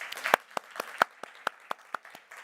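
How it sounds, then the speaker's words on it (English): Scattered, sparse clapping from a small conference audience for a best paper award, a handful of distinct hand claps at an uneven rhythm, fairly close and not very loud. "Yes, applause."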